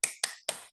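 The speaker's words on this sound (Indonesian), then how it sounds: "Tepuk semangat." Classroom group doing a tepuk semangat cheer, three sharp, separate claps in quick rhythm, close and crisp, then silence.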